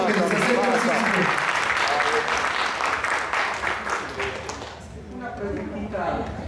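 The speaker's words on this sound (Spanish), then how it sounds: "un aplauso que nos acerque" Audience applause at a physical-activity event, a dense wash of clapping that stays loud for several seconds, then thins and fades near the end, with a voice speaking faintly through it.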